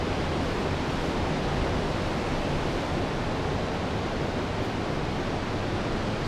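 Ocean surf breaking steadily at a consistent surf spot at Playa La Mision in Baja Mexico, a dense continuous roar of waves with no voices.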